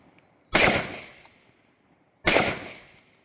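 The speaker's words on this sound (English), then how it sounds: "you're gonna rip 3 rounds nice and slow" Two sharp, loud AR rifle shots ring out with well over a second between them, each cracking sharply and then decaying into a short echo tail, with quiet in between.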